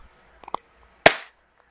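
A WE Glock 17 Gen5 airsoft pistol fires a single loud, sharp crack through a chronograph, preceded by two faint soft clicks and followed by a brief decaying tail.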